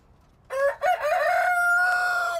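A rooster on a farm crows loudly and close by in the early morning, a long drawn-out cock-a-doodle-doo with a brief break near the start, heard alone.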